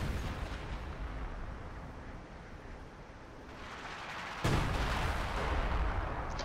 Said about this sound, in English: More artillery pounding their positions over in this area